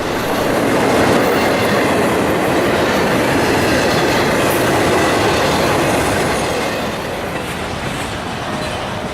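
A CSX intermodal freight train, the Q133 hotshot running from North Baltimore to Jacksonville, rolls past in South Florida with loud close rumble and steady clickety-clack of wheels, faint squeal, easing slightly toward the end.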